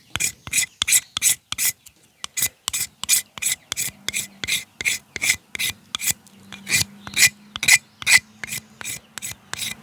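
A knife spine scraping bamboo to shape pins, with quick, regular rasping strokes repeated about thirty times, close and crisp, with one brief pause early on.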